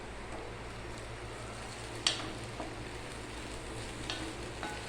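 Potatoes fry in a pan for a potato roast with a quiet, continuous sizzle. A few light clicks come as they are stirred, with one sharper knock near the middle and no talking.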